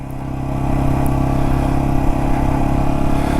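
A motorcycle riding on a snowy, icy highway in freezing winter cold, with a steady droning engine and a broad rush of wind and road noise that holds loud and even throughout.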